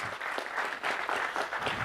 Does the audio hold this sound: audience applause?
yes